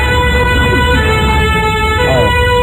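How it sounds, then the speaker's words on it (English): A loud police car siren wails close by, its tone rising and falling continuously over road noise, with no clear speech. "That's the siren."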